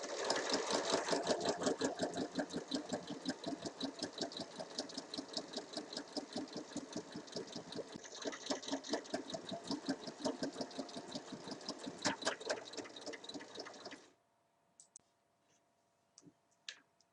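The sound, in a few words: sewing machine stitching a side seam of a summer dress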